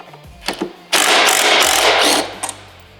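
A power tool or impact driver loosens headlight bolts on a 2014-2023 Harley-Davidson Road Glide fairing, a loud steady mechanical whir lasting about a second and a half, framed by a few short clicks before and after.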